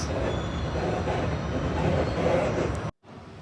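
An aging New York City subway train runs with a loud, steady rumble and rattle for close to three seconds, then the sound cuts out sharply and returns at a lower level.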